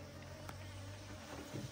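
Honeybees hum steadily while a hive is being split, a low, soft, continuous drone close by with no voices.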